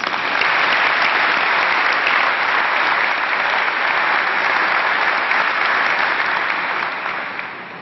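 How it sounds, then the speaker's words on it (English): Sustained applause from an audience at a 2017 Brewster High School graduation ceremony, a dense, steady roar of many hands clapping at full strength for nearly eight seconds before beginning to taper off at the end. "Please give them a round of applause."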